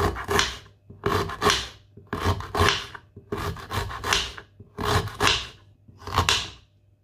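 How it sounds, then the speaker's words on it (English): A knife slices fresh ginger into tiny pieces on a cutting board in six evenly spaced rasping strokes, each a short scraping cut about a second apart, close and clear with no voices. "Then you slice it to tiny pieces"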